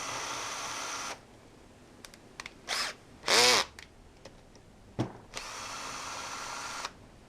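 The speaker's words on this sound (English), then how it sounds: "I'm just going to use a drill." A power drill backs out the muffler screws on a small engine. Two steady whirring bursts, close and clear, are split by a short quiet stretch of clicks and small handling knocks.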